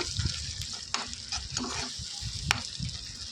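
Spice paste stirred and fried in hot oil in a pan for a Telugu curry: a steady close sizzle with repeated scraping strokes of a spoon through the thick mixture, no talking.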